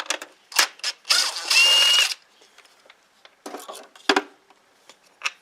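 A ratchet works a 10mm bolt loose on the top of a 2001–2004 Chrysler Town and Country radiator, giving short bursts of clicking and a longer steady ratcheting run, close up in a quiet garage.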